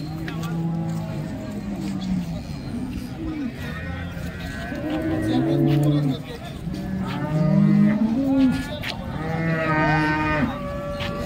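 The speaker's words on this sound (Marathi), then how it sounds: "शेतकऱ्याची गाय आहे" Dairy cows at a livestock market in Modnimb, Madha taluka, Solapur district, give several deep, drawn-out moos among a busy crowd, with people talking nearby throughout.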